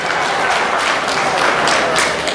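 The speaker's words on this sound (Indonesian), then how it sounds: "tepuk tangan untuk Pak Dewan dulu" Audience applause for Pak Dewan at a Maulid Nabi Muhammad SAW 1444 commemoration in Papua province, a dense, steady wash of clapping hands held at a constant loud level throughout.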